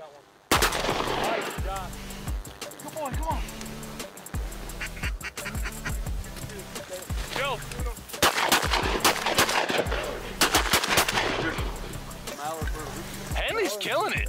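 Shotgun blasts crack out during a waterfowl duck hunt, several sharp loud shots in quick bursts amid quacking ducks, while hunters shout and talk excitedly over the action.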